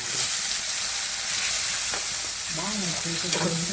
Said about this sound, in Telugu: దెన్ టమోటా వేసుకొని కొంచెం బాగా వేయించుకోవాలి